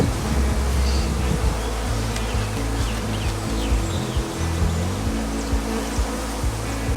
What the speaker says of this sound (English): Look at these two bees right here.